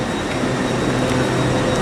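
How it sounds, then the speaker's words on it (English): Steady rumbling rail noise with a constant broadband roar from a Hull Trains Hitachi Paragon passenger train idling or rolling slowly nearby in London, with no voices. "Just down here is a Hull Trains Paracon Hitachi train."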